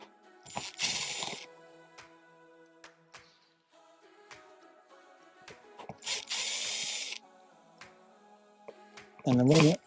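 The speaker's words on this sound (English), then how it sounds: "So you take your Phillips head, and there's 4 screws that hold these in. And you gotta gently take out the little screws." Small screws come out of an RV interior puck light under a Phillips screwdriver, giving quiet scattered clicks and metallic scraping, with a person talking between bursts of handling noise.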